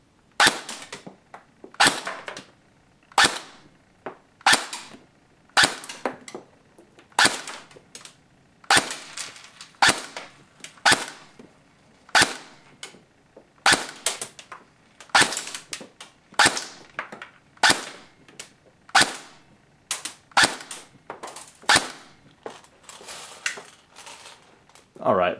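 An A&K M4 D1 airsoft gun firing .25 gram BBs through a chronograph, with about two dozen sharp, close single snaps spaced a second or so apart in an even, deliberate rhythm.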